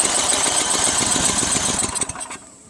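A Craftsman snowblower's Tecumseh 9HP engine turns over in a steady, fast mechanical chugging that stays loud and close, then slows and fades to a stop near the end.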